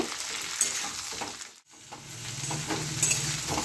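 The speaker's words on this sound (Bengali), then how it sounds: "এটা খালি মতন ভালো করে ভেজে নেব।" Potatoes and yardlong beans fry in a pan with a steady close sizzle, broken by scraping stirs and one short dip in the middle before the frying noise returns at full strength.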